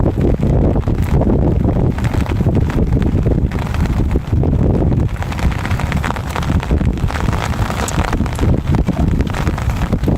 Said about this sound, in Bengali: বাতাসও প্রচুর বাতাস।